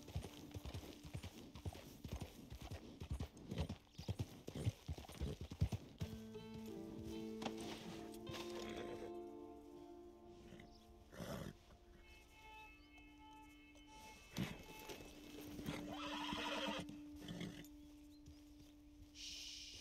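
Horse hooves clip-clop in a steady rhythm in Red Dead Redemption 2 Online, with a neigh and snorts over game ambience and a low hum, fairly quiet throughout.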